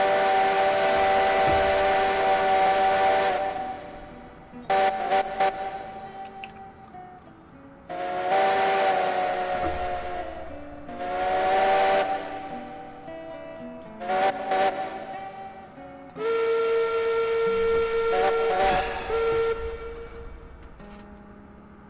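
Steam locomotive whistle in the train game Railroads Online, several long, loud blasts of several seconds each, with short toots in between and gaps of quiet.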